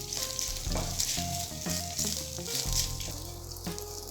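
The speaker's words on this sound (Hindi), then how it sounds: "उसमें शामिल करेंगे 1 कप बॉयल्ड श्रेडेड किया हुआ चिकन। 1 मिनट तक इसको फ्राई कर लें।" Boiled shredded chicken fries in oil in a pan with a steady, close sizzle and occasional stirring scrapes, with no talking.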